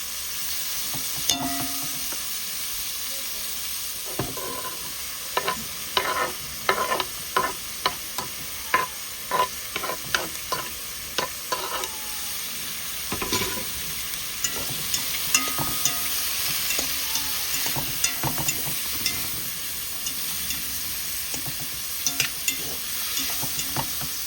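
Butter fries in a pan while making tricolor rotini pasta, giving a steady close sizzle broken by a run of sharp clicks and taps from a utensil against the pan, with no talking.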